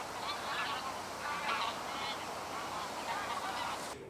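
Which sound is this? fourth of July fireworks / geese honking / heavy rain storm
geese honking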